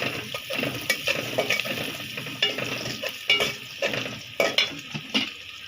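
Onions sizzle in a hot pan while a utensil stirs and scrapes in repeated strokes, close by with no talking.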